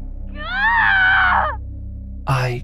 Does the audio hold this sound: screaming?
yes